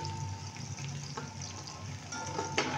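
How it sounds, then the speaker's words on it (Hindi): Onions frying in a pan for yakhni pulao, turning brown: a steady close sizzle and crackle runs throughout, with a few brief stirring scrapes and clinks near the end. "ये देखिए प्याज ब्राउन होने लग गई है"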